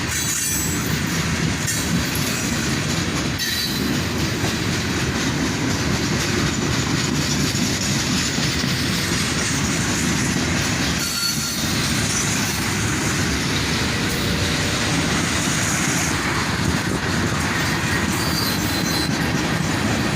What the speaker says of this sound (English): Three locomotives run elephant style on this southbound manifest.